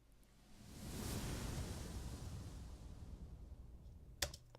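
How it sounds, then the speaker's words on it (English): A rising whoosh effect from the Native Instruments Rise and Hit library swells into a broad airy noise and holds steady, then ends with a brief sharp hit near the end, with no voices. "makes whooshes. They sound like this."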